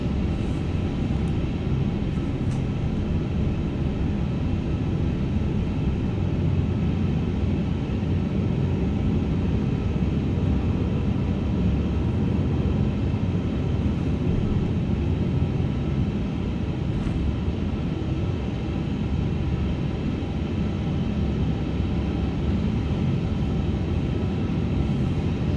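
Airbus A350-900 taxiing on a snowy winter taxiway after landing in a flight simulator, heard as a steady low engine rumble from inside the aircraft that holds without change.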